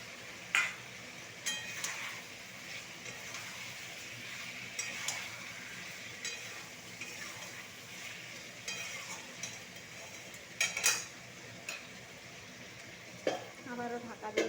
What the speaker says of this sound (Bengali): আবারও একবার ঢাকনা খুলে নাড়িয়ে নেব।